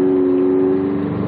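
A rebuilt 2006 Mitsubishi Eclipse engine with a misfiring cylinder is held at wide open throttle, producing a loud, close, steady droning hum for a brief moment.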